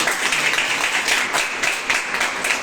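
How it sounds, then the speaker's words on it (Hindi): An audience breaks into loud applause, a dense continuous patter of many hands clapping with slight swells, heard alone for a few seconds. "इसके लिए जोरदार तालियां"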